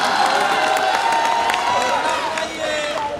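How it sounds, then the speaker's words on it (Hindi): Audience clapping and cheering at a Hindi comedy show during Holi festivities, a steady mass of claps and crowd noise filling the whole moment, with a voice rising over it. "तालियां बजाइए।"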